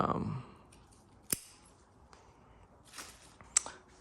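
Pruning shears snip a camellia bonsai, a sharp close cut near the start followed by a couple more crisp clicks amid quiet handling.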